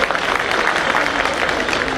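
An assembled crowd at a Delhi bar gathering at Tees Hazari breaks into brisk, close, continuous clapping for a couple of seconds.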